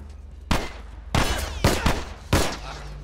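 Gunfire in The Last of Us Remastered, four loud sharp bursts of shots spaced about half a second to a second apart, close and punchy over a low background hum.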